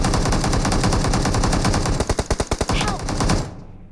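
Gunfire in PUBG Mobile, a loud, close automatic burst of evenly spaced rapid shots over constant in-game noise, fading out at the end.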